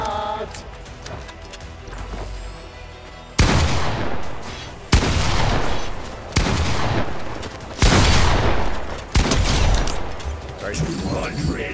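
Loud bursts of video game gunfire in Fortnite, several sharp heavy blasts spaced a second or two apart over a dense rumbling game soundscape, with players shouting and talking over it.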